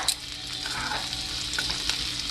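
Onions fry in a pan for hamburger steaks, a steady close hiss of sizzling with faint crackles throughout, no voices.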